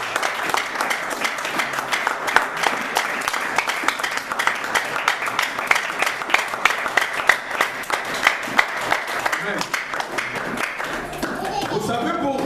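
A church congregation breaks into sustained applause at a sermon, a dense, even wash of many hands clapping that carries on steadily and fades slightly at the end, with a voice speaking faintly underneath.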